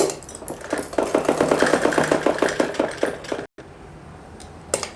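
A sewing machine stitching a suit neckline runs in a fast, even rattle of rapid stitches for about three seconds, stops abruptly, and leaves only faint room noise.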